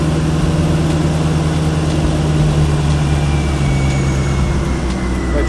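A 5.7-liter LS V8 in a 2000 Chevrolet Corvette coupe idles steadily after a cold start with a low, even rumble and a faint hum, close and continuous with no voices.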